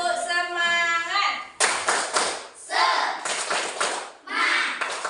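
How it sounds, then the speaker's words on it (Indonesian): An Indonesian school class does a rhythmic spirit clap, with several short bursts of hands clapping together in a set pattern while children chant between the bursts. "Tepuk semangat."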